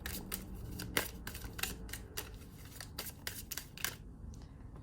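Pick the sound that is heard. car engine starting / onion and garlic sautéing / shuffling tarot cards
shuffling tarot cards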